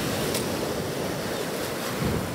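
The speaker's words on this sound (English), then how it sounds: "You can see the waves are right behind me." Ocean waves break and wash onto a sandy sea-glass beach in a continuous loud roar of surf, mixed with gusty wind buffeting the microphone, and no voices are heard.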